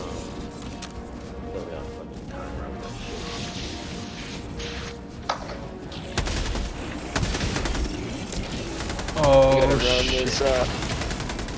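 Rapid bursts of automatic gunfire and scattered shots crackle in a shooter video game, growing denser and nearer in the second half. Someone speaks briefly over the shooting.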